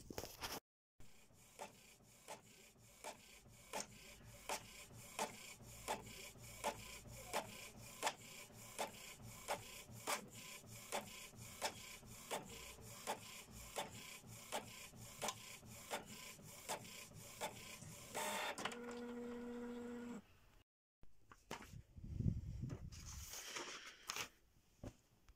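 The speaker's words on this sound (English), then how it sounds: "Just got new inks yesterday for the printer so you can print again." A home inkjet printer with freshly fitted inks prints, its head shuttling back and forth in a steady ticking rhythm for about twenty seconds before whirring, feeding the page and falling silent, close by with no talk.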